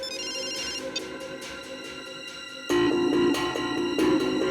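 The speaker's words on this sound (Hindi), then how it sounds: "पायल, फोन कट करो।" A telephone rings insistently with a repeating electronic tone, then a second louder ringtone cuts in and keeps going.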